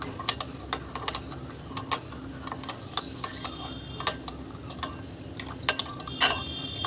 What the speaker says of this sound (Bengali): চিনিও দিয়ে দিলাম, দিয়ে ভালো করে মিশিয়ে নিলাম